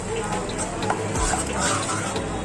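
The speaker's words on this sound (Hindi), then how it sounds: "इसे मिक्स कर रही हूँ," A spoon stirs lobia curry in a pan of frying onions, masala and water, making soft scraping strokes over a steady close sizzle.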